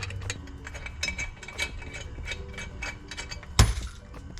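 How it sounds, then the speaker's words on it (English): Ratchet with a 4mm Allen socket tightening bolts on a coolant expansion tank install in a Honda Civic Type R engine bay: a steady run of close, rapid clicking pawl strokes, ending with a sharper clunk near the end. "use our Allen, which by the looks of it, this is a 4mm Allen socket"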